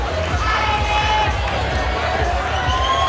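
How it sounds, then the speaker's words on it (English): A crowd at a bouldering competition final cheers steadily for a climber, a dense wash of voices and shouts that fills the whole stretch without letup. "Lots of cheers from the crowd for Nick Allen."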